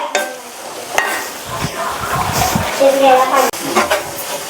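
Cluster beans being stir-fried in a pan, a soft sizzle with scraping stirring strokes and a sharp clank of utensil on pan near the end.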